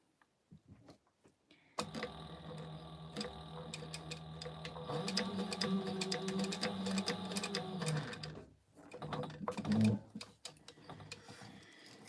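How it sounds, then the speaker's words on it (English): A sewing machine top stitches across a fabric strap to secure a D-ring on a pouch, running in a steady, rapid, close-up mechanical patter for several seconds before slowing and stopping, with a short handling noise near the end. "I'm just gonna top stitch that too to secure that D-ring"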